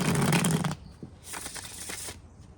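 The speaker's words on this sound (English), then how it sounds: "as you're shuffling that" Tarot cards shuffled by hand, a dense riffling burst followed by a pause and a second, softer flurry of card rustling, close and alone with no talk.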